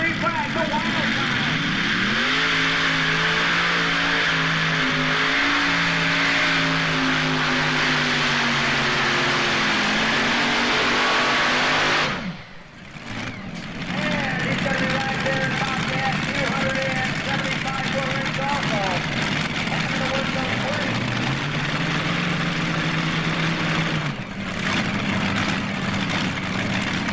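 Modified tractor pulling at an NTPA event, a loud, sustained engine roar that climbs in pitch and holds, cuts out abruptly midway, then returns, with an announcer talking over it.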